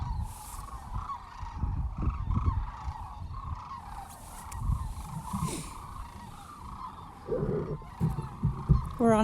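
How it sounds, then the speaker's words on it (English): Sandhill cranes give repeated rolling, honking calls from a distance across a marsh, with nearby ducks and occasional bumps and shuffles from a boardwalk close by. "We got some cranes in the background."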